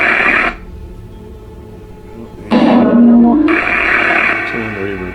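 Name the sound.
white noise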